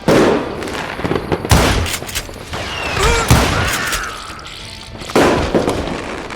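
Loud gunshots in the western shooter Call of Juarez: Gunslinger, with sharp cracks in irregular bursts separated by brief lulls, close and dominant.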